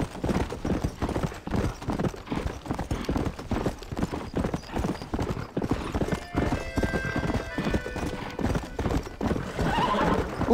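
Hooves pound in a rapid, steady gallop in the Western video game Red Dead Redemption, close and loud, with a horse whinnying partway through.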